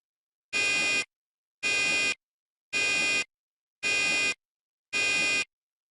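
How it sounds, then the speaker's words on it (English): Five evenly spaced buzzing alarm pulses from a 4100 fire alarm interface panel, each about half a second long with equal gaps of silence, loud and harsh with no other sound. "a pulsing tone alert will sound at the interface panel."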